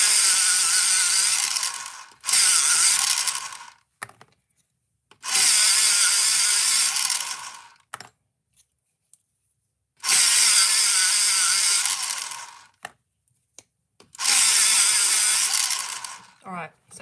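An electric pencil sharpener whirs loudly in several separate bursts of a couple of seconds each, with short silent gaps between them and a few faint clicks.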